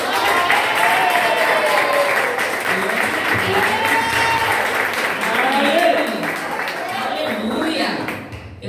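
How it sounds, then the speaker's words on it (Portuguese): Applause from a children's church service audience, a dense broadband wash of clapping that holds steady for several seconds with faint voices mixed in, then thins toward the end. "Eu quero ouvir nesse momento uma salva de palmas com glória a Deus."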